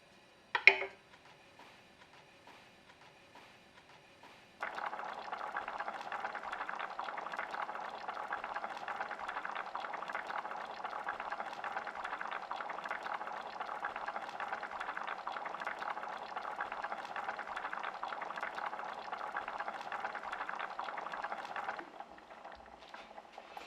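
Rose jam heats in a pot and breaks into a steady, soft bubbling boil that runs evenly for most of the stretch after a quiet start, close and without talk.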